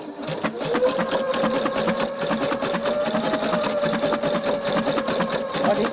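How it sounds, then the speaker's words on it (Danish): A Husqvarna Viking Brilliance sewing machine stitches steadily and changes direction with its reverse button, a fast, even mechanical whir with rapid needle ticking, close and fairly quiet, with no talking. "Når jeg kommer hen til min kant her, så trykker jeg på tilbagesyningsknappen, og nu ændrer den så retning til at sy frem efter."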